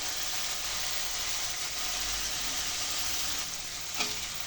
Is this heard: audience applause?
no